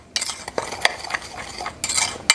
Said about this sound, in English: we're gonna stir that into our sugar